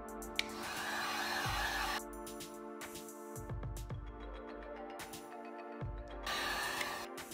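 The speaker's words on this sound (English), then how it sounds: "I'm gonna grab my heat gun and heat it up so it's nice and sticky" A heat gun blows steadily and close by, warming the double-sided tape of a carbon trim overlay for a 2015 Audi A4 B8.5 interior, with its whine rising and falling as it moves.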